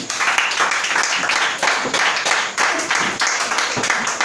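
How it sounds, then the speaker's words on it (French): A church congregation applauds and claps for the Lord, a dense, steady wash of many hands close by, rising in bursts over four seconds with a few voices mixed in. "Acclamons pour le Seigneur."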